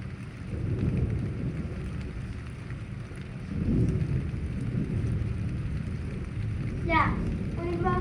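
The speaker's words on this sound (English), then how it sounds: "It's thunderstorm. Yes. It's thunder." Low, rolling thunder rumbles through a thunderstorm with steady rain, swelling twice, while a voice and other voices speak briefly near the end.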